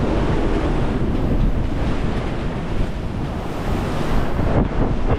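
Big Atlantic Ocean waves of five to six metres roll and hiss continuously at sea, a loud steady surge of water mixed with gusty wind rumbling against the microphone.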